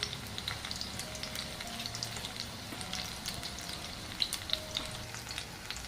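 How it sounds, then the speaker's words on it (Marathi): Spring onion bhaji fritters deep-fry in hot oil with a steady, soft sizzle and scattered small crackles and pops. Nobody speaks. "इथं टाकून द्यायचं असं, तळून द्यायचं याला मस्त असं."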